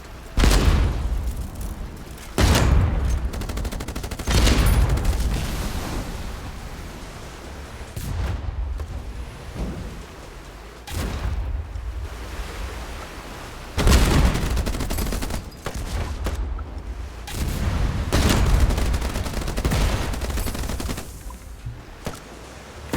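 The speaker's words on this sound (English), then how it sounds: "You have heavy machine guns" Heavy machine gun fire from boats in the naval combat game Age of Water, with repeated loud bursts and booming impacts in an irregular rhythm over a steady background rumble, no voices.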